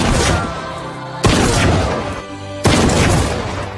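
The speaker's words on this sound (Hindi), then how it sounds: "उसने अपनी शिकार बंदूक उठाई और उसी पर गोली चला दी।" Two loud, sharp hunting rifle shots ring out about a second and a half apart, each one booming and then trailing off into echo.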